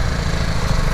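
BMW G310R motorcycle engine running, a steady buzzing single-cylinder drone, close and loud, with no voices.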